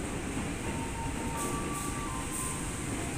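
Electric commuter train rumbling at Kampung Bandan station in Jakarta, a steady broadband roar with a faint high squeal running throughout, loud and continuous with no talk.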